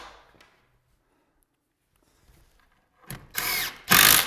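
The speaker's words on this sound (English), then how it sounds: "I'm going to start driving screws up through all those holes that I had Jesse drill in the bottom" A power drill drives 1¼ inch screws up into a cabinet bottom, starting with a short whir and then two loud, close bursts of driving at the end after a quiet stretch.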